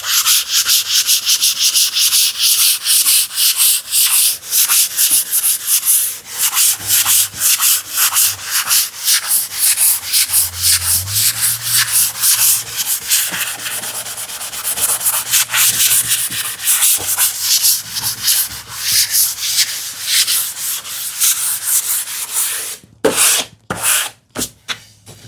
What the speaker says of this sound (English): I will try to ease off that with sandpaper